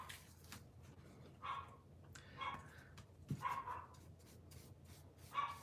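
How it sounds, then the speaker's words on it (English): A pet dog barking at a cat in another room, a handful of muffled, distant barks and yips spaced irregularly over several seconds, faint and alone with no talking. "sorry for my dog barking."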